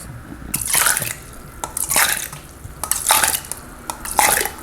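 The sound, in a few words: rinsing cherry tomatoes in water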